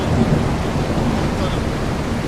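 Steady, loud rain with a deep rumble of thunder fills the scene in the farming video game Ranch Simulator, a continuous wash of noise with no clear breaks.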